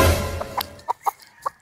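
A few short, sharp clucks from a fighting gamecock rooster, spaced irregularly after a brief burst of low noise, fairly close.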